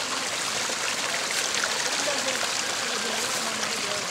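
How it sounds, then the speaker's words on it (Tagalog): Water flowing in a stream in Guinobatan, Albay, Philippines, a steady broadband rush and trickle that continues without a break, close by and moderately loud. "Ito, dito, dumadaloy ang tubig."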